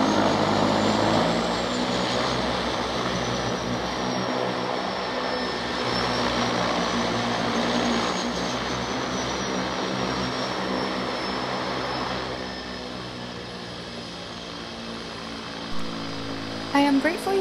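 A De Havilland Otter floatplane converted to turbine power drones steadily at Vancouver Harbour, a continuous close engine roar that eases slightly toward the end.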